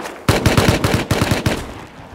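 Automatic gunfire in the survival game Rust: a loud, close burst of about ten rapid shots fired in quick succession, then a short fading tail.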